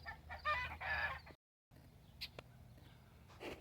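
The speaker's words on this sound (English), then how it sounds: "Sounds like chickens have laid me an egg." Backyard garden chickens cluck in short, close bursts, a few rapid throaty calls followed by scattered softer clucks and faint background noise.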